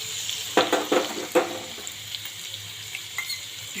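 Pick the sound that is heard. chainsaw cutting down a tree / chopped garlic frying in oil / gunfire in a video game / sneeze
chopped garlic frying in oil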